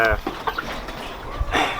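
A chicken clucks in short, irregular bursts close by, with a few louder calls breaking over faint background noise and some possible nearby voice sounds.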